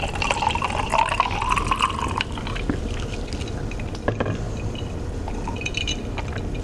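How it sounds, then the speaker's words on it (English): Strawberry hibiscus herbal tea with rose hips is poured into a glass, a steady liquid gurgle that rises in pitch as the glass fills, followed by quieter drips and clinks. "so pour myself a glass and do a little taste test"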